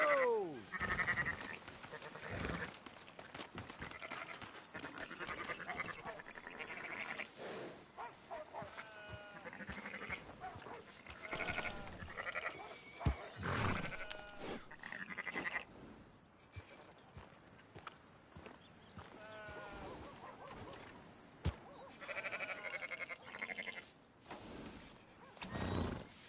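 Sheep bleat in a video game, with several wavering bleats scattered over a busy, noisy backdrop of game sounds, moderately near and mixed with other ambient noise.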